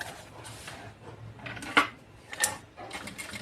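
A sewing machine stitches fabric for a cross-stitch fabric pencil case, giving a faint, soft mechanical whir with a couple of sharper clicks, heard alone without talk.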